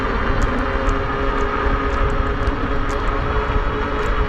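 Aniioki AQ177 Pro Max e-bike under throttle climbing a hill at about 15 to 20 mph, a steady broadband rush with a faint motor whine and passing air noise running continuously, with no talk.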